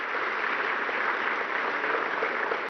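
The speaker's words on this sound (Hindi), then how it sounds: "जोरदार तालियां।" Steady, continuous applause from a crowd at a government farmers' certificate ceremony, an even band of clapping that fills the short clip and cuts off abruptly at the end.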